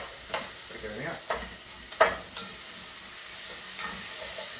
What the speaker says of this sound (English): we're going to first go in with our onions. Get those moving around.